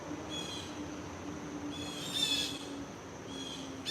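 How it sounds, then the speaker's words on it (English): Birds calling outdoors in a home garden, with repeated high chirping and whistled phrases at moderate distance over a steady background hum, louder bursts coming in short clusters. "Do you hear those birds?"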